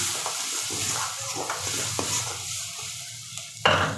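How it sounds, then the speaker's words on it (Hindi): Onion, tomato and red chilli powder frying in a pan for paneer bhurji, crackling sizzle broken by repeated scraping stirs and a final sharp clatter, close and moderately loud, no voices. "ये देखिए, सबको अच्छे से फ्राई कर लेंगे।"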